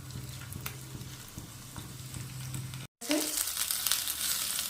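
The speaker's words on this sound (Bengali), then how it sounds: "হালকা আগুনে ভাজতে হবে অনেক সময় ধরে আগুনটা একদম হালকা দিবেন" Katla fish fritters fry in oil over low heat, giving a continuous close sizzle and crackle with a low hum beneath; a brief silent gap is followed by brighter, louder spitting oil.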